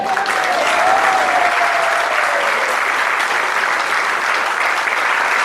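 A crowd at a motorcycle dealership claps for a road-racing rider walking onto a stage, loud, dense and sustained applause filling the whole stretch evenly, close and bright.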